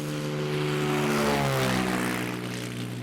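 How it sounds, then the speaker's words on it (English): A Cessna 206 propeller airplane flies past, loud and steady, its engine and prop drone sliding down in pitch as it passes close by, with no voices. "the Cessna 206 is the workhorse of the fleet."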